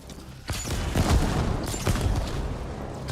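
Turret gunfire in the video game Retrocity, heard as bursts of loud blasts with two strong hits standing out against a dense, continuous game soundscape.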